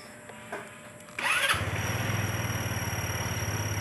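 A Rusi RFI 175 motorcycle engine, 175cc and about three years old, cranks briefly with a starter whir, then catches and settles into a steady, close, rhythmic idle.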